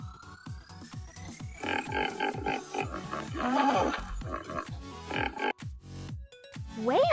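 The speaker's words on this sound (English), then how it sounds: "Hippopotamus." A hippopotamus gives a deep, grunting call of repeated low pulses that rise into a loud rolling roar partway through, with a brief higher squeal near the end.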